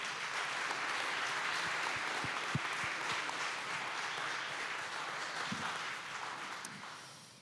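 Steady audience applause fills a hall at a French conference session on severe storms and tornadoes, sustained and moderately loud with scattered sharper claps before tapering slightly near the end.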